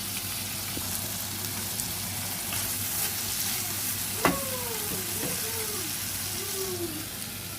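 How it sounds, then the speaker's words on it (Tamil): Washed dried anchovies (nethili karuvadu) sauté in a pan with a steady, even sizzle that continues throughout, broken by a single sharp clink partway through. "கழுவி வச்சுருக்கிற நெத்தலி கருவாடு அதை இதில் போட்டு வதக்கி எடுக்க போகிறேன்"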